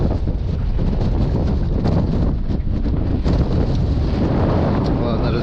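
Strong wind buffets the microphone on a spring fishing boat while a longline is being handled, a loud continuous roaring rumble that fills the whole stretch with no speech heard.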